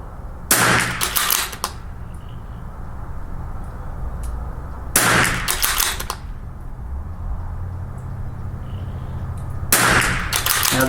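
Three sharp 22LR rifle shots firing Lapua ammunition, spaced about five seconds apart, each a crisp loud crack with a short ringing tail, heard close over quiet outdoor background.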